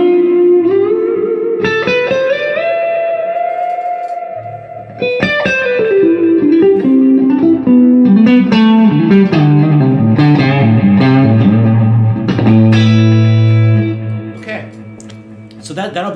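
Clean electric guitar playing melodic single notes and chords, each note trailing into soft delay repeats that give a spacious, lingering tail.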